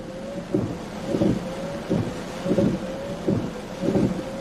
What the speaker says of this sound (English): Hearing the wind, or is that the freaking hail roar coming?